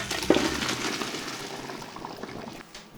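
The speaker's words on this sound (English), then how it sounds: "I'll take them off the heat, drop them into the colander." Boiled brussels sprouts and their hot cooking water pour from a pot into a colander in a kitchen, making a steady rushing splash of water that fades over about three seconds, close and fairly loud.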